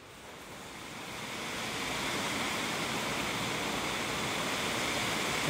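A beck runs through woodland with a steady, full rush of water close by, swelling slightly at the start and then holding level; no voices.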